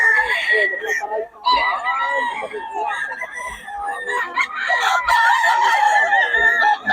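Several roosters at an expo crow loudly and repeatedly, overlapping one another, with occasional clucks and thumps in between.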